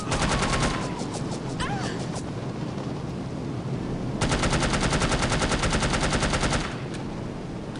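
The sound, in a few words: gunfire in video game No One Lives Forever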